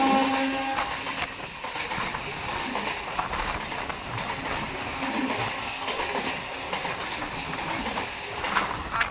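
Passenger train from India's ICF coaches rolling along the track, a steady rumbling wash of wheel and rail noise with hissing texture throughout, close and continuous, no clear horn blast standing out.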